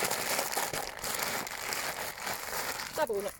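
Newspaper is crumpled and rolled up around a dead rat taken from a trap, giving a continuous close papery crinkling and rustling with a brief vocal sound near the end.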